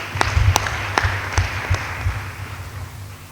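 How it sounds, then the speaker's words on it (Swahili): A short burst of audience clapping at a savings cooperative's annual general meeting in Nairobi, scattered and fading out within a few seconds. "Jipigieni makofi."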